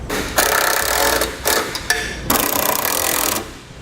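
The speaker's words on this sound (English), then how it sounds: "Take our 10mm screw here, resecure it, get it started a little bit" A 10mm screw is driven into plastic on a 2015 Ford Fiesta base plate installation, heard as several close, loud bursts of buzzing power-driver whir separated by short pauses, with no talk.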